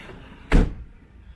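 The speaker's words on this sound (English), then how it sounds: "close the side door." A single heavy sliding side door of a Volkswagen Caddy van rolls shut with a solid thud, close by, followed by quiet.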